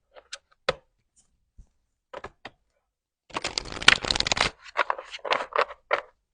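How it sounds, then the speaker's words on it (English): Chakra oracle cards are shuffled by hand: a few isolated taps and flicks, then a dense riffling burst and several quick card slaps, close and quiet with no speech. "I'm going to go ahead and pull a chakra card."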